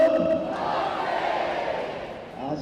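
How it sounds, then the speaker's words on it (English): Ice hockey arena crowd at a Braehead Clan versus Löwen Frankfurt game cheering a young player's assist, a steady, loud roar of many voices that holds for the whole stretch and swells slightly at the end. "What an ovation for the youngster"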